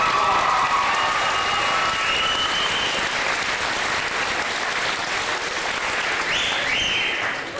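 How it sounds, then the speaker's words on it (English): An audience applauds RCMP officers from Carberry at a community event, a broad, steady roar of clapping from many people that holds strong and fades slightly at the very end, with faint crowd noise mixed in. "Please give them a warm applause."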